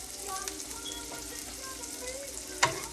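Onions fry on high heat in a pan for a beef stroganoff, giving a dense, steady sizzle and crackle close by, with a brief sharp clink near the end.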